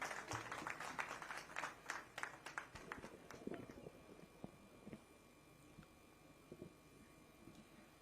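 An audience at a political event in Yamunanagar, Haryana applauds to welcome the Chief Minister, with a burst of claps that thins out over several seconds into scattered claps, distant and fairly quiet.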